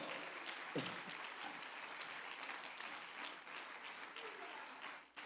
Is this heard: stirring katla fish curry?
no